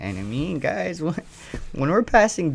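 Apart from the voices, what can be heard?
None of the usual background noises is heard.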